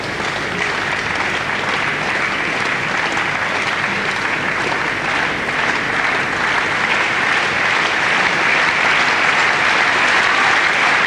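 Sustained, steady applause from a large German crowd of spectators at the 1991 UIAA World Climbing Championships in Frankfurt, a dense wash of clapping that holds at an even level throughout, with no voices standing out.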